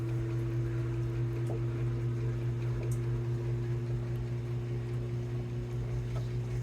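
A Samsung washing machine running its first small load, a steady low motor hum and drone with faint water swishing, constant and close, no voices.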